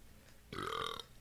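A single loud, throaty burp lasting about half a second, heard alone against a quiet studio-like background with no talk.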